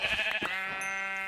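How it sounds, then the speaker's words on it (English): Sheep bleat in a video game, a short wavering animal call up close, followed by a sustained tonal chime-like game sound. "Oh, sheep."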